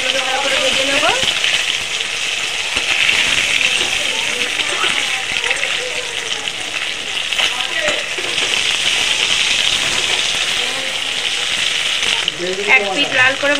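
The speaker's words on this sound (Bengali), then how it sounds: "মাছগুলোকে ভালো করে ভেজে নেব" Bata fish fry in hot oil in a pan, a loud, dense, continuous sizzle with crackling spatter, while a person talks over it throughout.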